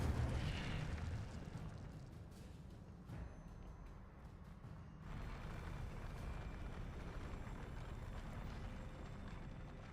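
Spell effects crackle and burst in Hogwarts Legacy combat, a dense wash of magical blasts and whooshes with a sharp hit near the start and another swell midway, continuous and moderately loud.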